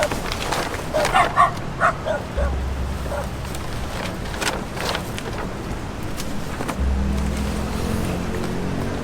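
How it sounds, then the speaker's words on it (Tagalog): Several dogs barking around a house beside a long railway line, a cluster of sharp yelps near the start with scattered barks later, moderately distant over a steady rumbling outdoor background. "daming aso."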